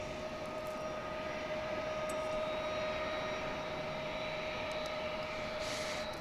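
A Boeing 757 jet at DFW International Airport gives off a steady, moderately distant engine roar with a sustained whine that holds evenly throughout.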